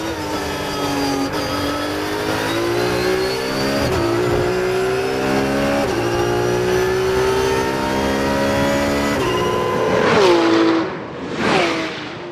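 Race car engines roar steadily and loudly at Paul Ricard circuit, rising and falling through gear changes, with two cars, including a leading Lamborghini, whooshing past near the end.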